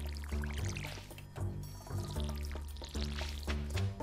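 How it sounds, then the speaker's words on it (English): Watering crops with a watering can in the farming video game Stardew Valley, a series of short, repeated splashy pouring bursts in a steady rhythm over a low background tone, with no talking. "First of all, I'm going to water my crops."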